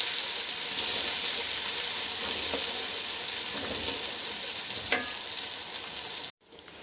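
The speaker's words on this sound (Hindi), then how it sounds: "पैन में मैंने आधा कप ऑयल का डाला है और प्याज डालकर इसको लाइट पिंक कर लूँगी" Steady, dense sizzling of onions frying in about half a cup of hot oil in a pan, with occasional faint stirring clinks; continuous and fairly loud, no talking.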